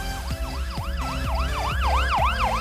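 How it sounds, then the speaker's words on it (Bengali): An ambulance siren wails in quick, repeated rising and falling sweeps, loud and close, with traffic rumble underneath. "কিছুক্ষণের মধ্যেই অ্যাম্বুলেন্স এসে যায়।"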